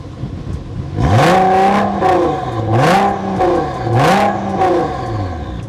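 A Liberty Walk (LBWK) Silhouette GTR sports car engine revs hard three times in succession, pitch climbing and falling with each throttle blip, loud and close with no talking.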